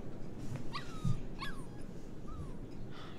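A dog in the video game Life is Strange 2 whimpers in three or four short, rising-then-falling whines, close and fairly soft over low background noise.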